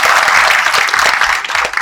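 Audience applause at an Independence Day speech, a dense steady wash of many hands clapping at close range that continues for the whole stretch and thins slightly near the end.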